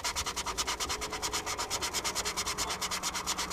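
Rhythmic back-and-forth sanding of a wooden boomerang, quick even strokes about five or six per second, close and steady with no voices.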